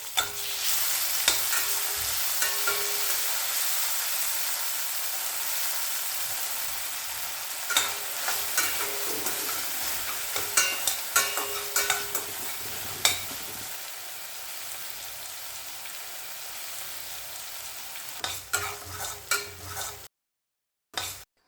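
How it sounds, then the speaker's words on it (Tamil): Onion and tomato frying and being stirred in a pan for egg omelette gravy, a steady close sizzle with scraping spoon strokes bunched in the middle. It cuts off just before the end. "தக்காளி நல்லா வதங்கணும்."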